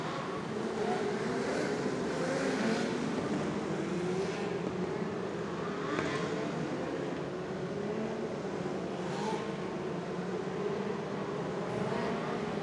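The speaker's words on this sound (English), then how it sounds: "Last couple of cars rolling their way out." Non-winged dirt 600 race cars roll out at a dirt oval in Fort Wayne, a steady, distant engine drone with low rumble and broad wash of track noise throughout.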